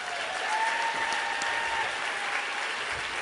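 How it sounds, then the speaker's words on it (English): Steady, even applause fills a room as an audience claps for volunteers, a continuous mass of hand claps with a faint whistle-like tone riding briefly over it and no speech. "Let's give all of our volunteers a big round of applause."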